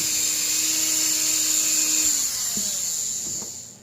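A Dremel rotary tool carving a wood spirit face in wood: a close, loud, high-pitched whine with grinding as the burr bites, steady for about two seconds, then dropping slightly before it winds down.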